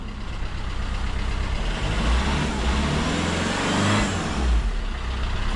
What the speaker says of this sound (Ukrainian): А ну зараз спробуємо, набирає обороти.